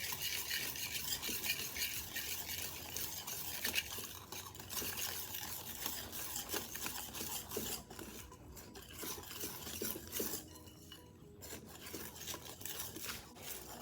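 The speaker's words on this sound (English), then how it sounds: "Add them in slowly and whisk." Dry ingredients being whisked into apple cinnamon quick bread batter, a continuous dense scraping and rasping of the whisk against the bowl, steady and close with brief lulls, no voices.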